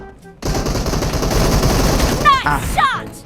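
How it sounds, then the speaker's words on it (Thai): Gunfire in PUBG Mobile: a sustained, loud burst of rapid automatic fire that holds steady for a few seconds, with a voice speaking briefly near the end. "เดี๋ยวผมลองไปยิงตายสักคนหนึ่ง"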